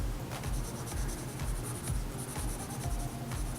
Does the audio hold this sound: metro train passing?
no